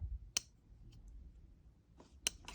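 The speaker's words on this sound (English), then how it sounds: "listen to the click." The lock of a Spyderco Para 3 folding knife with G-10 scales snaps shut, two crisp, faint clicks about two seconds apart over a low, quiet background hum.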